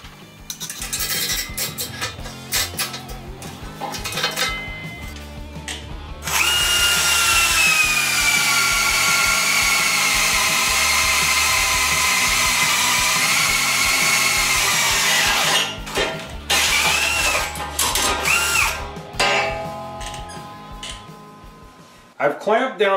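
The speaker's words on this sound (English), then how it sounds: "we'll drill a hole right next to it using the same bit" A power drill whines steadily for about ten seconds at high speed, its pitch dipping slightly as it bites into 3/4-inch steel plate clamped in a vise, with clattering and rhythmic background sounds before and after.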